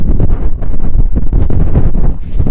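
Steady, heavy wind on the Eldon Hill hilltop pummels the microphone in a dense, rumbling roar with rhythmic gusts and no other sound.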